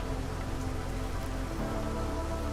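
Drizzle falls in the video game Against the Storm as a steady, even patter of rain on surfaces, unbroken for the whole stretch with no voices over it.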